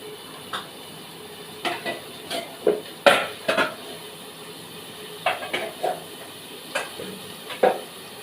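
Kitchen clatter of a pot being handled and covered after ridge gourd, turmeric and salt go in for a fish curry: a string of sharp metallic clinks and taps, moderately close, with no voices.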